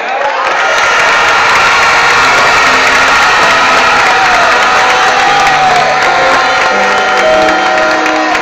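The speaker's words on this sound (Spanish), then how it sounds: "pido un fuerte aplauso" Large crowd at a popular beauty pageant in Cartagena erupts in loud, sustained cheering, shouting and applause, a dense continuous roar that stays strong throughout.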